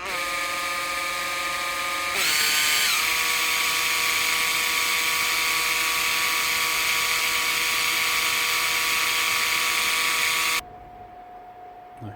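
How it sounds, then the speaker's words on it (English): A cobalt drill bit grinds down the centre of a broken screw in the head of a Paslode IM360 nailer, a steady high motor whine that shifts pitch under load after two seconds, runs continuously, then cuts off. "Get yourself a cobalt drill bit"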